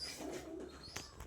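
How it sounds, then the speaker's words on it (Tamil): Wild pigeons kept in a cage at a home pigeon farm give a soft, brief, low cooing call, close by and quiet. "இது எல்லாமே நாங்கள் காட்டு புறா தாங்க பிடிக்கிறது."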